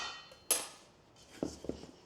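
Butter scraped into raisin scone dough with a metal utensil: a sharp clink, then a quiet pause, then a few short scraping knocks against the bowl, close and fairly soft, with no talking.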